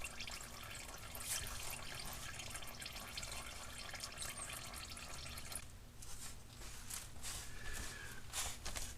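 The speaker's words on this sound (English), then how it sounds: "unscrew this oil filter all the way and dump it right in the drain pan" Motor oil drains steadily from a Mazda CX-5 into a drain pan during an oil and filter change, a continuous soft splashing trickle with faint drips, quiet and alone.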